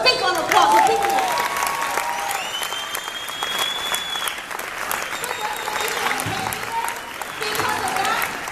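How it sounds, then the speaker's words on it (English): A crowd applauds steadily, dense clapping filling the whole stretch, with a few cheers and a voice heard briefly through it. "Give yourself a big round of applause for being here."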